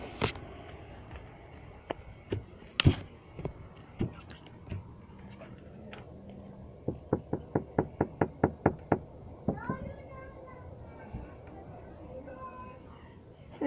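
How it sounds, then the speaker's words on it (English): Knocking on a trailer door in a trailer park: a few scattered raps, then a quick run of about ten sharp, evenly spaced knocks, close and clear over a low background hum with faint voices. "I just knocked on the door."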